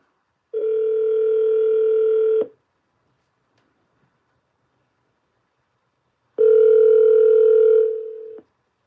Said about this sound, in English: Calling Cheryl Self's mobile.